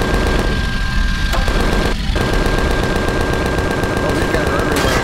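Rapid bursts of plasma gunfire from an enemy in the space survival game Empyrion Galactic Survival, a dense, steady barrage of shots that stays loud and continuous throughout.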